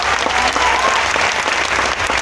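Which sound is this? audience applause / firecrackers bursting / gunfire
audience applause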